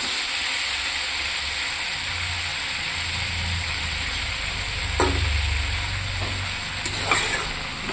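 Ginger frying in a pan gives a steady, loud sizzling hiss throughout, with a couple of brief stirring scrapes near the end and no talking.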